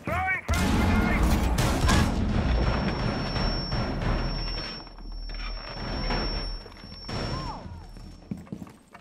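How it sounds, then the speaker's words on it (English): A frag grenade is thrown and blows up in a video game, a loud close blast with a rumbling tail, followed by clattering debris and a second burst of noise. "Throwing frag grenade!"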